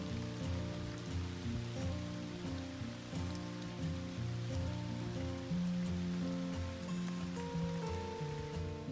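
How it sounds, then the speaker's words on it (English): Rain falling on a cold, very windy day out bass fishing, a steady dense patter heard at low level throughout, with a constant low droning hum beneath it. "It's about 40 degrees and raining out here, very windy"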